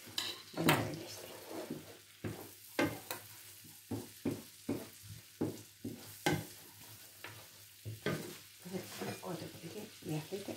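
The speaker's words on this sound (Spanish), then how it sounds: "ponemos que se nos dore nuestro ajito un poquito" Garlic browns in oil in a pan while being stirred, a soft steady sizzle broken by repeated scraping strokes of a utensil, close and fairly quiet with no talk.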